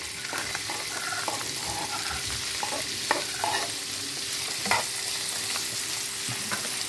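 Sausage sizzling and being stirred in a pan with melted lamb fat, a steady frying hiss with occasional scraping stir sounds close by.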